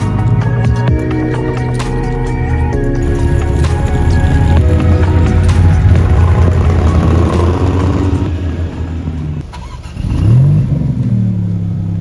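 Supercars including a Porsche 911 Targa and a McLaren 750S drive off from a concours d'elegance show, engines revving and accelerating in a loud overlapping roar, with a nearby car sweeping past near the end.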